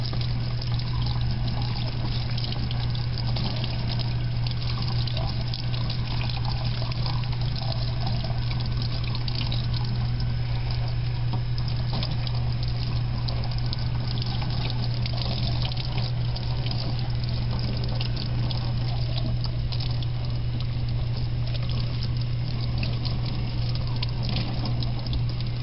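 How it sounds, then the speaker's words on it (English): Hot tap water runs steadily into a sink while an air filter is rinsed, a constant splashing trickle with a low electrical hum underneath and no talk. "So I'm going to rinse it off with some hot water."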